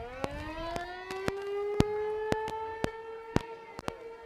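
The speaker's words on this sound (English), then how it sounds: "And tornado sirens here in Tuttle. I think that's the weekly test." A steady wailing tornado siren during its weekly test in Tuttle holds a rising tone throughout, heard at a softball regional, with sharp clicks or knocks punctuating it at irregular intervals.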